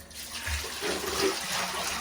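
Dirty water poured out of a container splashes and gurgles steadily into a sink or drain, fairly quiet and close.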